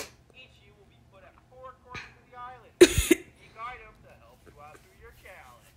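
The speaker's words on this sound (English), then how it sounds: "Sorry, we got a bit of a cough today" A single harsh cough bursts out near the middle, loud and close, between stretches of casual talk from people in the room.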